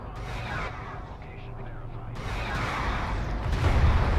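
Missile salvos from power 5 missile systems in the real-time strategy game Homeworld: Deserts of Kharak, a dense, rumbling barrage of launches and impacts that builds louder toward the end, with a commentator talking over it.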